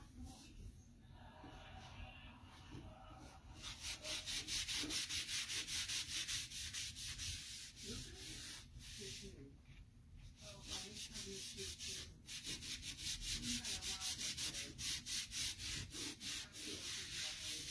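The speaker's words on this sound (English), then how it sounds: "I'm just going to grab a disinfecting wipe," A disinfecting wipe rubs briskly back and forth over a board in rhythmic, close scrubbing strokes, steady and continuous with brief pauses.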